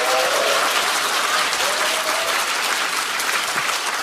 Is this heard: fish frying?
no